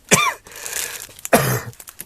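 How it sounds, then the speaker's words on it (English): Two harsh, broadband coughing bursts from a person, close and fairly loud, one at the start and another about a second later, with quieter breathy noise between them. "Sorry, I'm going to cough a lot."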